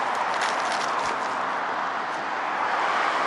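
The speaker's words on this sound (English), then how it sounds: "Sorry about the car traffic here." Car traffic passes on a nearby road outdoors, a continuous broadband roar of tires and engines holding at a fairly loud, even level throughout.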